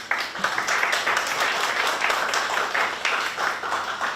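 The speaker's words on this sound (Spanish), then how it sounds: "Recibámoslo con un caluroso aplauso." Audience applause from a seminar crowd welcoming a geology lecturer, dense steady clapping filling the whole stretch at moderate loudness, with no voices on top.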